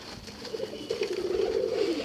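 A pigeon kept at a home coos in a soft, low, rolling series, steady and growing slightly louder over a couple of seconds, with faint background noise.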